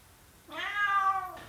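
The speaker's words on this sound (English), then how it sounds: "this tiny someone was not happy at all with the process. This is my cat Thales." A small house cat gives a single drawn-out, complaining meow, close and clear over a quiet room, with no one speaking.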